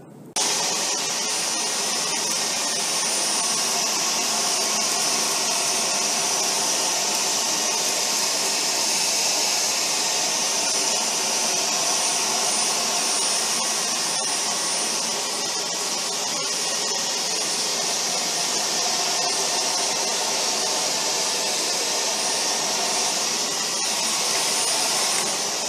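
A Dyson Omni-glide cordless vacuum cleaner runs continuously at close range, a loud steady high-pitched whine and rushing airflow from start to finish with no talking.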